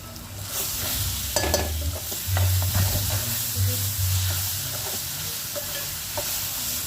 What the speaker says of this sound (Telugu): ఇంకా ఉల్లిపాయలు అయితే వేసుకుంటున్నాను. కొంచెం ఉప్పు అది వేసి బాగా మగ్గపెడుతున్నానండి.